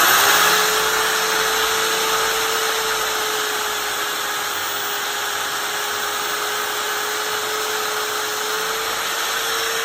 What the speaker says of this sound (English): I'm going to sand to the line with this sander